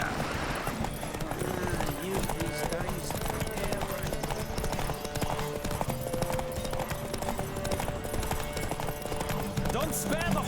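Hooves pound in a fast, continuous gallop during a horse race in The Witcher 3 video game, loud and close, with a horse whinnying and voices speaking over the rhythmic clatter.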